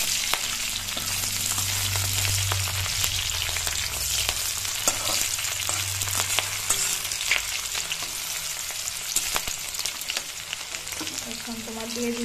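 Chopped onion and green chillies frying in oil in a pan, a dense continuous sizzle with occasional clicks and spoon taps, fairly loud and close throughout; no talk.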